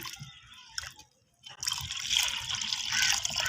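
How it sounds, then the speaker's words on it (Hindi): Water poured from a vessel into a kadai set on a wood-fired stove, a brief trickle and pause, then a steady splashing pour that fills out and runs to the end. "जी तो अब मैं डालूंगी इसमें पानी।"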